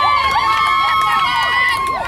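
A crowd cheers and shouts at the finish of a grueling running race, a dense, steady roar of many voices with rising whistles and yells throughout.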